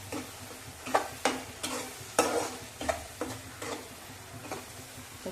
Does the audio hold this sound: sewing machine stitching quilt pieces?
no